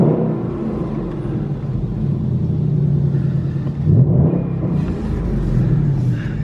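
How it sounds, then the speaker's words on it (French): Ford Mustang Bullitt V8 idling and blipping through its quad exhaust, a deep throaty rumble that swells into a brief louder rev near the middle and again toward the end, close and loud with no talking. "On a 4 sorties d'échappement qui font vraiment un bruit absolument magnifique."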